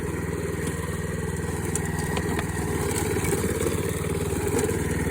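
A lawn mower fitted with a cable in place of its blade runs over a big log, its engine holding a steady, close, rumbling drone with a fast regular pulse and slight rises in pitch, no voices.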